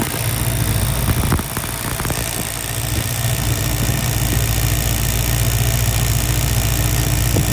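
A car engine with one ignition coil wire pulled runs steadily and loudly at idle, a dense continuous rumble with a brief dip early on.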